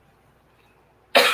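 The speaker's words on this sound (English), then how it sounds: "hold on, I got a cough." A single sharp cough bursts out suddenly after near silence, close and loud at the very end.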